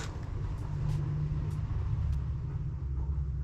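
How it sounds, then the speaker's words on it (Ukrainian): A car arrives, heard as a steady low engine rumble close by that fills the short moment without any voices. "Машина приїхала."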